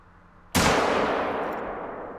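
A single sharp rifle shot at an animal in theHunter: Call of the Wild, a loud sudden crack followed by a long rolling echo fading away over about two seconds, with no voices.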